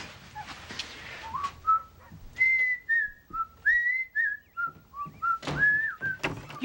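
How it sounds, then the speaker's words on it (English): Someone whistles a wavering melodic tune indoors, a series of clear rising and falling notes in short phrases, fairly close, with faint background knocks and no talking. "Whistling, the sound, it sets off my migraines."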